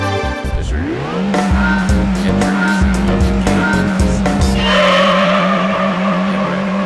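A Volkswagen New Beetle 2.0 in Gran Turismo 3 accelerates from a standing start with a steady, loud engine drone, then brakes hard with a long tire squeal near the end, heard alone.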